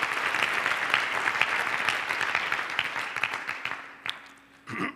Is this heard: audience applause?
yes